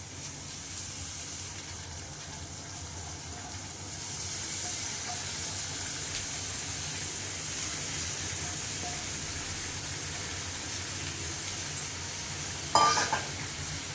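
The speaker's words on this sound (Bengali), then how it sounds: "এবার এইটা দিয়ে দেবো চালটা দিয়ে দেবো মশলার মধ্যে" Washed Gobindobhog rice stir-fried in spice masala in a hot pan, a continuous close sizzle and hiss that swells as the grains go in, with a brief clatter of a utensil near the end.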